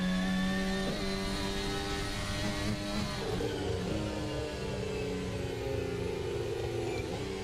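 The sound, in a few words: F1 race car engine downshifting in racing video game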